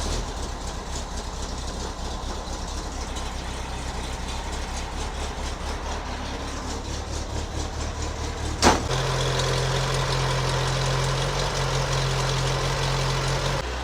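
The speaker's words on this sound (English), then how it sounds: "I'm going to turn the car on, I'm going to let it run for a while, I'm going to let it get hot" A car idles steadily while warming up, a low continuous engine rumble close by, with a brief clunk partway through followed by a steadier hum and a faint whine, no one talking.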